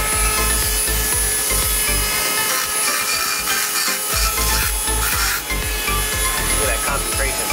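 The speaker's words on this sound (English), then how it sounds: "And we're now smoothing out the strut tower" A car strut tower is smoothed during paint prep with a hand sanding or filing tool, producing steady rhythmic rubbing and scraping strokes close by, continuous throughout, with a brief lull partway through.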